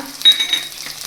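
Chana dal, urad dal, green chilies and peanuts hit hot oil for Gujarati upma, giving a short, close burst of sizzling with a thin ringing tone over it.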